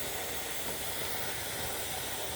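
Steam hisses steadily from the stack of a canner, a dense, constant, moderately loud jet of noise with no breaks, heard alone without talk.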